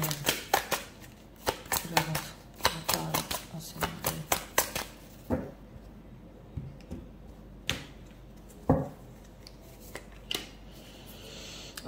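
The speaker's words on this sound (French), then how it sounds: "les cartes sont coupées" Playing cards are cut and shuffled close up in a quick burst of sharp riffling snaps, then a few slower, scattered flicks and taps follow, with a voice speaking intermittently around them.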